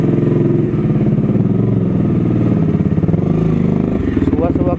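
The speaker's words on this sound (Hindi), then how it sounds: "कोल्ड स्टार्ट दिया था बाइक को।" A motorcycle engine idles and revs loudly just after a cold start on a foggy morning, with a steady thumping pulse and a rise in pitch near the end, close to the microphone.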